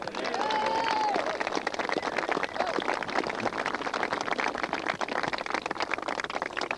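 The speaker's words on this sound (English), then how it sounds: "I would ask you to give a good round of applause to Ballybricken." Round of applause for the Ballybricken team at the 1986 County Limerick Junior B Football Final, a steady crowd clapping outdoors with a short whistle-like tone near the start, continuing throughout.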